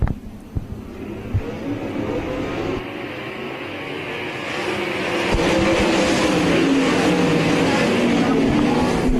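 Sprint cars race around a dirt oval at Wayne County, engines roaring loudly and swelling as the pack charges closer, with a race announcer talking over the noise.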